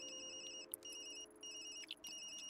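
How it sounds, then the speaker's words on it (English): A phone ringtone in the Tokyo Dark video game, a faint electronic ringing that repeats in short bursts with brief pauses, heard alone. "That's my phone."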